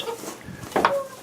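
Fancy chickens on a winter farm, kept near goats and ducks: a brief, soft cluck and squawk close by, faint and short, with quiet background and no speech.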